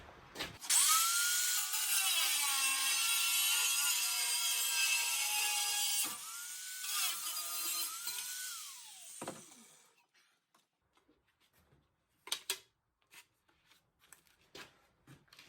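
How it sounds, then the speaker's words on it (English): An angle grinder cuts through steel for a homemade landmine corner hitch, a loud whining cut of about nine seconds broken by one short pause, followed by scattered clanks and handling noises. "And then I take my angle grinder."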